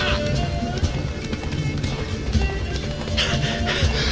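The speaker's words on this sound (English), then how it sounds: "Run, Roach." The horse Roach gallops in The Witcher 3, with rapid, rhythmic hoofbeats pounding steadily and close throughout.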